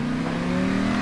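Steady car engine revving in the video game Payday 2 during a car shop heist, a loud sustained drone with a constant pitch and no speech over it.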